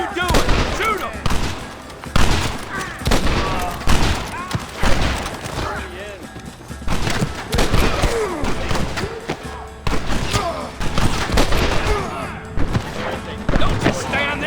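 Gunfire in a Red Dead Redemption shootout, repeated loud bursts and single shots cracking throughout, with thuds mixed in, under shouted voices of game characters.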